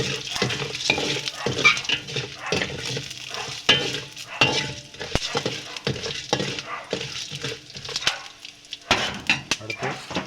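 Ingredients are stirred and roasted in a pan, with irregular scraping and clinking of a spoon against metal, close and moderately loud, mixed with a soft sizzle.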